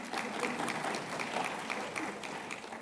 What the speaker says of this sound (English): It was Nassau started the claps